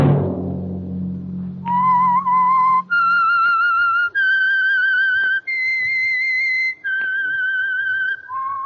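A series of clear, sustained whistled tones, each stepping to a new pitch with brief gaps between, following a low rumbling swell at the start.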